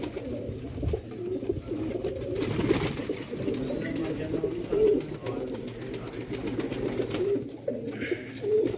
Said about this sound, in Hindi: देखो कबूतर